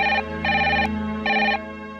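A telephone rings in repeated bursts, two electronic trills separated by short pauses, loud and close against a low background hum.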